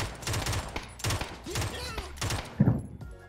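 Several bursts of gunfire in the battle royale game PUBG, clustered volleys spaced about half a second apart, fairly loud and close, with faint voices mixed in between the shots.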